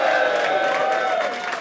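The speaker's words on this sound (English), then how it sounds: "give a cheer for the Trollettes" A drag-show audience at a roast cheers and whoops in a short, fairly loud burst of crowd noise that fades slightly toward the end.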